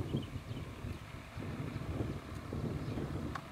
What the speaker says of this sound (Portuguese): aqui no alto tá um vento tão gostoso